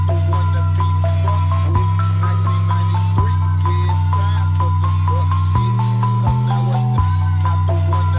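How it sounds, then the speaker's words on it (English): Bells ring a melody over a deep sustained bass in an old-style phonk beat, the bass holding long low notes that change pitch every few seconds while the bright bell line runs steadily on top. "And together they sound like this with the bass."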